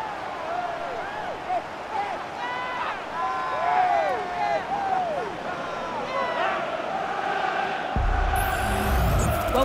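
A stadium crowd in the FC24 football video game, at a Fulham vs Chelsea Premier League match, roars and cheers after a goal. The noise is loud and sustained, with rising whistle-like cheers, and a louder burst comes near the end.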